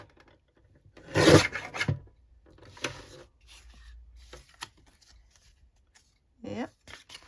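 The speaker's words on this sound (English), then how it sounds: "I'm going to trim this end as well." Cutting tool trimming the edge of a journal cover made from teabags, a few short rasping scrapes and rustles up close, quiet between strokes, with a voice speaking briefly near the end.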